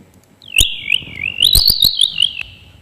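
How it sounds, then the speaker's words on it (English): Synthetic bird song generated from a Lorenz attractor model plays as a warbling whistle that glides and wobbles for about two seconds, punctuated by a few sharp clicks, loud and clear. "now we have sequences of chirps that constitute this, this bird song"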